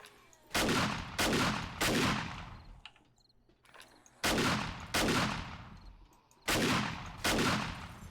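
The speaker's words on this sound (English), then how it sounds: "Keep shooting them till they're dead." Gunfire in the zombie survival video game 7 Days to Die: several loud, rapid bursts of shots separated by short quiet gaps, with no talking.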